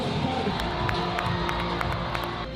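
A crowd cheers and claps in a short, loud burst of mixed shouting and rhythmic applause.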